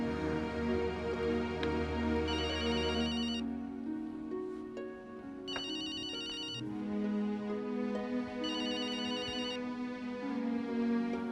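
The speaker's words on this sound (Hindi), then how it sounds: "तुम फोन उठाओ" A telephone rings in three evenly spaced electronic bursts over soft, sustained background music in a Hindi TV drama scene, with no one speaking.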